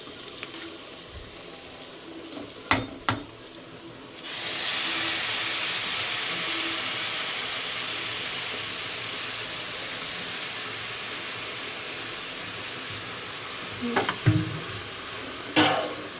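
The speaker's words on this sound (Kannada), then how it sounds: "ಇದನ್ನು ಇವಾಗ ಎಣ್ಣೆಲಿ ಚೆನ್ನಾಗಿ ಫ್ರೈ ಮಾಡಿ ಪೇಸ್ಟ್ ಮಾಡ್ಕೋಬೇಕು" Chopped onion with coriander, mint and fenugreek leaves fries in hot oil, a steady hiss and sizzle that swells after a few stirring knocks, with more scraping clatter near the end.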